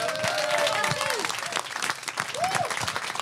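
An audience at a stand-up comedy show breaks into applause, a dense, continuous clapping that carries through the whole stretch while a voice speaks over it.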